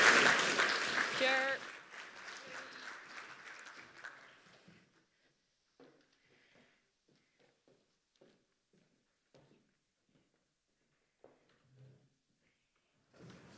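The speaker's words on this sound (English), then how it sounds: "Please everybody give them a warm round of applause as they make their way up on stage." Applause from a tech conference audience for human capital panelists, loud and dense at first, then thinning out over several seconds into scattered claps, footsteps and faint stage noises.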